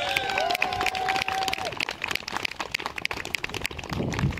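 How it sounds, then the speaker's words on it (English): A crowd cheers and claps in a broad, continuous wash at an outdoor trebuchet demonstration at Warwick Castle, with whistles and whoops rising above the steady applause. "let's hear a massive cheer for our Trebuchet Master, Charlotte!"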